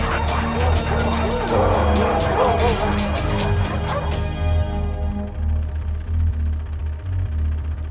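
Dog barking and whimpering from a film clip: rapid repeated yelps and barks over a dense, loud background, fading toward the end into lower rumbling noise without the barks.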